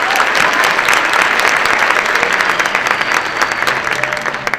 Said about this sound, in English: And let's give her a round of applause.